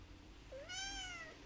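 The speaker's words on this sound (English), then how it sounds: "hi kitty cat, what's up? Come here." A single drawn-out cat meow, rising then slowly falling in pitch, clear and close in a quiet indoor room, heard alone without talk.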